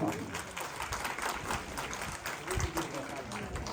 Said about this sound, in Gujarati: તાળીઓના ગગડાટથી બધાવો, જોરદાર બધાવો.